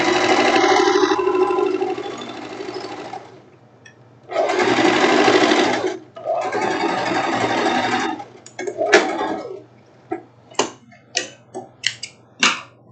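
A sewing machine stitches a seam on a silk tank top in long continuous whirring runs, then stops and gives short bursts with clicks and ticks, close and loud.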